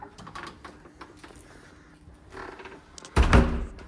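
A hotel room door in an Ottoman-era hotel in Algiers opens with a low thunk and rattle near the end, preceded by faint shuffling and clicks of the handle, close by and brief.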